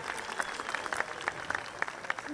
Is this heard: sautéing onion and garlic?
no